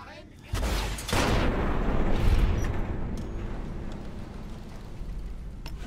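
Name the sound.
explosion in video game Fallout New Vegas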